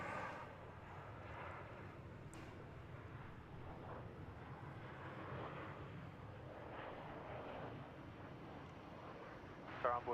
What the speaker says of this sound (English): It's American Flight 2046 coming in from San Jose, California. 737-800.